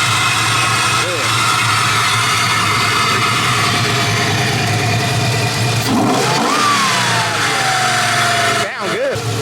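A 1987 El Camino V8 running loud and close, a steady rumbling idle with a rev that rises and falls midway, while people talk over the engine.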